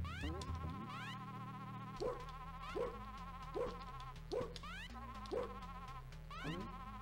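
Mosquitoes buzz in a Sega Genesis game, Stimpy's Invention, as a steady whine over chiptune music, with repeated short bursts of other game effects on a regular beat.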